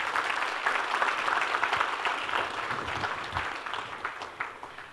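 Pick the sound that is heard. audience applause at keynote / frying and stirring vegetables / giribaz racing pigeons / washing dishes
audience applause at keynote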